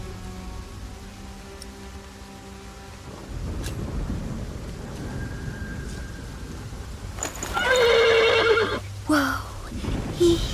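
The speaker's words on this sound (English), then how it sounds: "The horse nearly woke the guard." A horse whinnies loudly near the end in a rainy outdoor medieval setting, with steady rain hiss underneath and a voice speaking briefly before the neigh.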